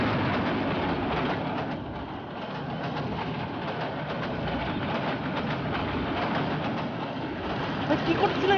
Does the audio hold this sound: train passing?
yes